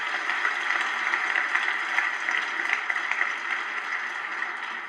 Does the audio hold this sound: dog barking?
no